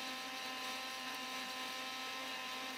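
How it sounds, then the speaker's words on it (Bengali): A blender whirs steadily as oil is blended into homemade mayonnaise, a continuous loud motor whine with a bright buzzing tone that holds without pause from start to finish. "এখন এটা ঢেলে দিচ্ছি আর আবারও ব্লেন্ড করে নিচ্ছি"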